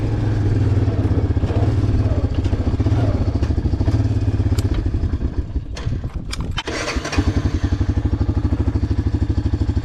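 A Honda Fourtrax ATV engine fitted with a new carburetor runs steadily with a loud, close, rapid putter, a brief rev and clatter partway through, then settles back into an even idle.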